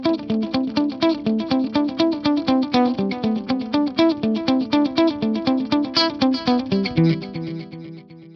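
A Fractal FM9 rhythm tap delay set to mimic an old SPX90-style rack reverb, heard on a steady stream of plucked, effected guitar notes with repeating echoes, loud and continuous before tailing off near the end.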